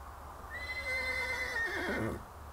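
A horse whinnies loudly and close by in a prison courtyard, one long shrill neigh with a wavering pitch that falls away near the end, over a low steady background hum.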